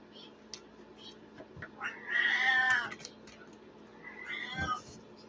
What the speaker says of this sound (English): Little gravelly cat meows.